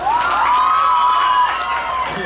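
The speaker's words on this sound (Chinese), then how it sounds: "我们给齐豫高中一个掌声跟尖叫声好吗？" An audience at an outdoor Halloween market stage show in a city plaza cheers for a high school performance group, with a sustained high scream riding over continuous crowd noise and clapping.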